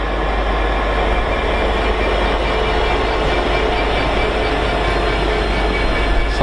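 Class 66 locomotive 66702 rolls past on the main line from Whitemore Yard to Peterborough, a loud, close, continuous roar of engine and wheels with rhythmic rail clatter throughout.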